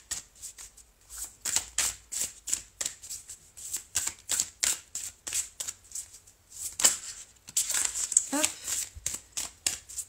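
Oracle cards are shuffled and drawn by hand, a close, soft run of papery riffles and slides in repeated bursts, with someone speaking quietly in French between them.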